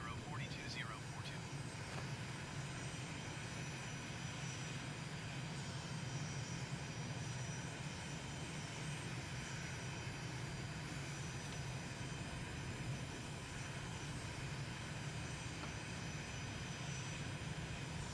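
A simulated airliner takes off from runway 06 in a flight simulator game. A steady, droning engine roar holds for the whole stretch, with a voice talking over it.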